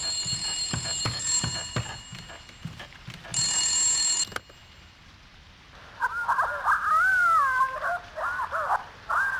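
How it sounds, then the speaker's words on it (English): A telephone rings inside a 2001 Korean horror video game, with bright electronic trilling bursts and eerie warbling tones following, moderately loud with no speech. "A ringing telephone."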